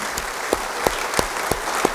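Church congregation applauding during an Indonesian-language sermon, a steady wash of clapping with a few sharper claps standing out at a regular beat, moderately loud and without talk.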